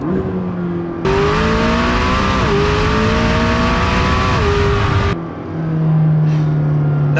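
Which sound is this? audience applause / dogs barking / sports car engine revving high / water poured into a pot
sports car engine revving high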